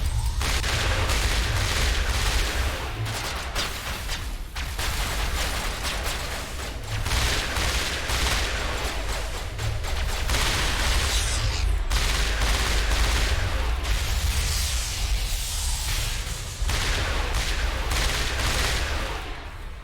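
Sustained gunfire in the Mass Effect Legendary Edition video game, dense bursts of shots and booms running almost without pause, loud and close, with little talk.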